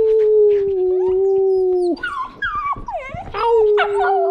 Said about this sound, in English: Can you howl for the camera?